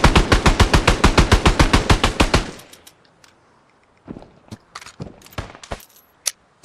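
Rapid rifle fire from a VR shooter game rattles out in a fast, even burst of about fifteen loud shots. Scattered clicks, clinks and a few single pops follow in near silence.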